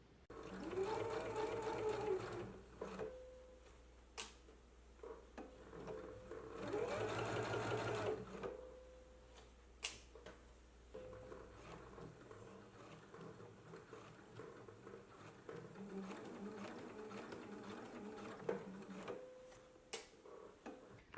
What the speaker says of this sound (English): stitching right in the ditch, making sure that you are catching this inner fold on the inside of the garment while you are sewing